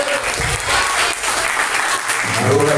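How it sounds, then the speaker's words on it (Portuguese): Loud, close applause from a church congregation during a sermon, with dense continuous clapping and a few voices mixed in. "Pode aplaudir."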